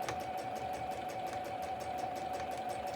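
A new, quiet sewing machine stitches through fabric with a steady, rapid mechanical hum and fine regular ticking, close by and even throughout, with no talk.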